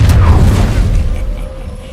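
An Incendio fire spell cast in a Harry Potter video game: a loud, booming burst with a dense low rumble at the start, fading into a sustained roar with a faint tonal ring.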